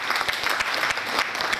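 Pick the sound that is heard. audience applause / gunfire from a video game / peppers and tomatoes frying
audience applause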